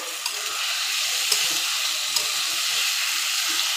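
Small mixed river fish such as baila, tengra and gochi frying in a spice paste, giving a steady close sizzle throughout with a few brief stirring clicks.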